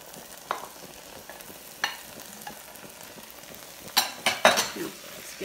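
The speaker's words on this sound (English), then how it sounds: "I'm gonna add my tomatoes" Canned diced tomatoes go into a hot pan for Creole dirty rice: a low background hiss broken by a few sharp clatters and bursts of sizzling and stirring near the end.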